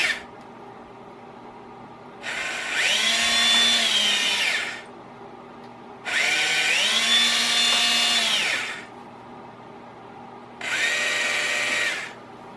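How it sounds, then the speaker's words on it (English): A power drill with a number 53 bit whines in three separate bursts of a few seconds each, drilling small holes, spinning up and down, close by, with quiet pauses between. "Okay, so the 4 holes are drilled, perfectly lined up."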